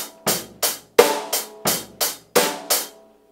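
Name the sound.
drum kit rock groove with unaccented hi-hat notes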